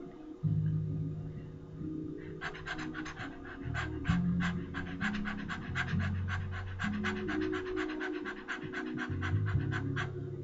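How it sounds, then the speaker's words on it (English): Rapid, rhythmic panting breaths from an energizing breathwork exercise, close and steady, begin after about two seconds and continue in a quick even pulse over a low background hum, with no talking. "This is an energizing breath work, okay?"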